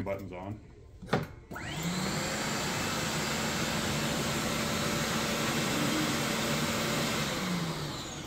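A floor scrubber machine runs with its brush and fan both switched on, a steady loud whirring drone that spins up after a brief knock and holds evenly to the end, with a voice briefly heard near the start.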